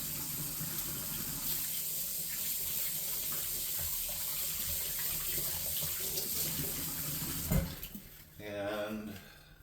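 Tap water runs from a faucet into a sink while hands are washed, a steady broad rush throughout, with a clatter near the end and a short voice-like murmur over the flow.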